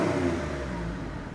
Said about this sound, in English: as you come off the gas, you get the gargling drain pipe noise